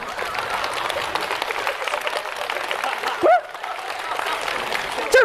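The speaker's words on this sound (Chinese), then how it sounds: "该鼓掌啊" An audience at a crosstalk comedy show applauds, a steady wash of clapping from a crowd, interrupted by brief shouted voices from the stage.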